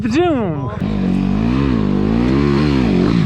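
An off-road enduro motorcycle engine revs up sharply at a hard enduro meeting, then holds a loud, rising and falling buzzing drone close by, with a voice briefly audible.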